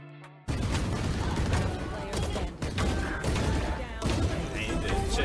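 Rapid gunfire bursts and impact thumps from the Valorant shooter game, ending in a headshot, loud and dense across the clip over a brief near-silent opening.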